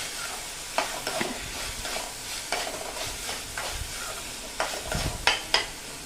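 Ginger-chilli-garlic paste with red chilli powder and black masala is sautéed in oil for dal fry, with a continuous close sizzle and repeated scraping stir strokes across the pan.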